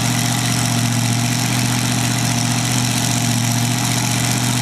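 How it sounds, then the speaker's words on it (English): A big supercharged tractor-pull engine in a 7,800-pound interstate modified tractor idles loud and smooth, a steady, close rumble with a strong low hum and no pauses. "that thing's idling nice and smooth for a big supercharged engine on it"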